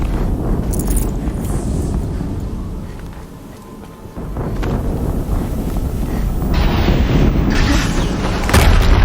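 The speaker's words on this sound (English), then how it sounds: "Another explosion." A heavy, booming explosion rumbles in the video game Horizon Zero Dawn, a loud low roar that dips in the middle and then swells again with wind-like noise toward the end.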